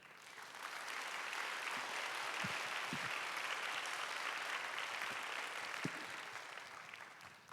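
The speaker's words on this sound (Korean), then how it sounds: "박수로 축복해 주시길 바랍니다" A church congregation at a young adults' worship service applauds to bless an engaged couple, sustained even clapping from a large room that holds steady for about seven seconds, at moderate distance with no speech over it.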